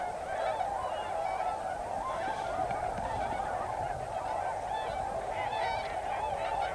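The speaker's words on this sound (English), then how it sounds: "Family groups of tundra swans, with cygnets now nearly as large as their parents," Tundra swans calling as flocks gather in Wisconsin, a continuous chorus of many overlapping honking, whooping calls from a large group at moderate distance, with no voices.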